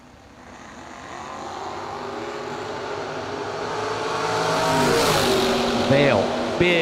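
A '68 Camaro and a Pontiac drag racing at a fall drag event, engines building into a rising roar over several seconds with tyre chirps near the end, heard under an announcer's voice.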